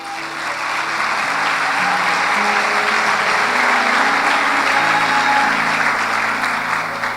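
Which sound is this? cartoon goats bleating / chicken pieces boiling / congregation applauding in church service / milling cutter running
congregation applauding in church service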